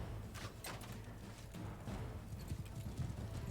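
Horse hooves clip-clopping in the Mount & Blade II: Bannerlord battle game, quiet, rapid galloping thuds over a low battlefield rumble, continuous for a few seconds.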